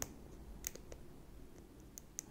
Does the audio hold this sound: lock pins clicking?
yes